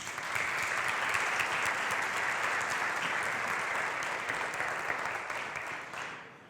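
Audience at a rosé wine congress applauding, a dense sustained round of clapping that fades out at the end, with no talk over it.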